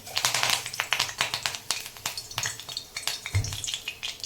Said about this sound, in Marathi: तेलामध्ये आता मी चार कडीपत्त्याची पानं घालते